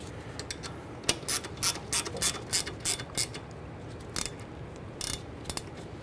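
A ratchet snugging down rear brake bolts on a 1994-2004 Ford Mustang, with bursts of quick clicking strokes repeating in a steady rhythm, close and fairly loud with short pauses between.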